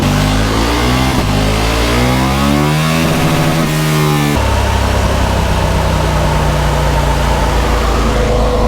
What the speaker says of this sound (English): That is popping so much on the D-cell. He just rolls off, you get a lovely little burble.